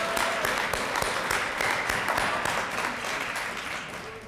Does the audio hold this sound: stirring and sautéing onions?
no